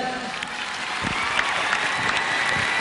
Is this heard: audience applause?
yes